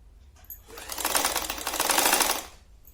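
Sewing machine stitching a 36-size katori blouse piece, a short fast rattling run of stitches that swells up and fades over about two seconds, close and clear.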